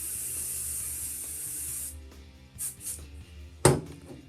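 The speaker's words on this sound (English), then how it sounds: "spray." Hairspray sprayed onto hair curled into victory rolls on a half wig, one steady hiss of about two seconds, close and clear, followed by a few soft handling taps and rustles.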